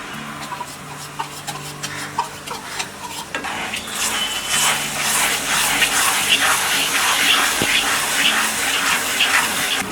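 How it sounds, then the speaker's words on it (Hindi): Chocolate barfi mixture with condensed milk is stirred in a pan over a low flame, with a spoon scraping and clinking steadily against the metal and soft sizzling underneath. "इसे हम कंटिन्यू स्टर करते हुए लो फ्लेम में कुक करेंगे।"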